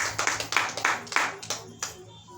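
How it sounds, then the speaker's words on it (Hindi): Audience clapping hands during a health talk, a short run of close, loud claps that thins out to a few scattered hits. "एक बार ताली बजाइए"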